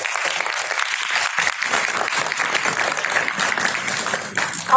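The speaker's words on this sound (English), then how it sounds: "Let's give them a big round of applause." Audience applause at a school investiture ceremony, steady dense clapping close by for several seconds, swelling slightly at the very end.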